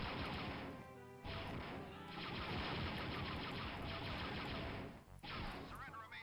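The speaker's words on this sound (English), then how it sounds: "someone's shooting" Video game gunfire during a planet-surface mission in the Hoerby Trilogy: loud, continuous automatic bursts and crashing impacts, with a brief break in the middle and at one point near the end.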